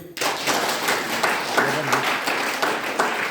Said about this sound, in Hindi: ताली मारे अपने लिए।